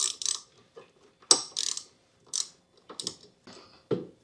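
Ratchet wrench loosening a 1/4 inch bolt on the deck pulley of a Husqvarna AWD mower during belt replacement, giving short bursts of close metallic clicks and taps separated by brief pauses, with no speech.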